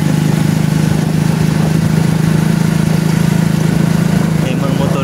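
Several motorcycles idle on a road in the Philippines near a tunnel at the foot of a mountain, making a steady, loud, unbroken engine drone for the whole stretch, with some voices mixed in.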